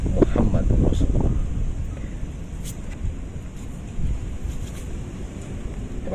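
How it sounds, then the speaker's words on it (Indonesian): Outdoors at the Candi Pangkuan temple site in Bumiayu, wind buffets a microphone in a close, low rumbling roar that is heaviest at the start, then eases into steady gusty noise with a few brief thumps. "Ini angin langsung datang nih Mas Pur nih"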